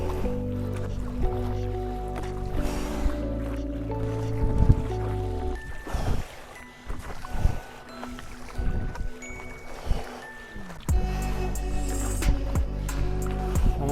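Paddling a boat across open water in wind on a timed 10K effort, with steady broadband water and wind noise, strong low rumble, and scattered splashes and knocks throughout.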